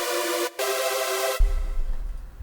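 Give Me Access synth preset played in Serum 1: a bright, dense sustained synth chord with a brief dropout, then a switch to a deep bass-heavy pulsing section, fairly loud and alone.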